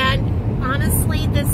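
Chevrolet HHR, a light car, driving along a poorly kept road with a steady low rumble of engine and tire noise, while a person talks over it throughout.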